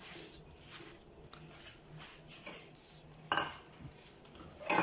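Chicken potato cutlet mixture being mixed in a bowl, heard as quiet, irregular clinks and scrapes of a utensil against the dish, close by with no voices.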